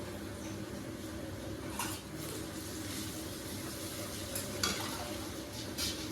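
Mustard oil sizzles in a pan with dried chillies and torn bay leaves, making a continuous even hiss, with a few brief spoon scrapes rising above it.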